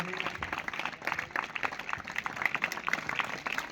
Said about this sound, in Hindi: तालियों की गड़गड़ाहट के साथ इनका स्वागत करेंगे।